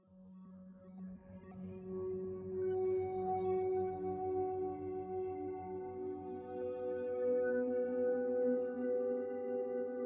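A soft, gentle synthesizer melody from an Arcsyn instrument plays alone, with sustained mellow tones slowly fading in and gliding between notes over a low hum.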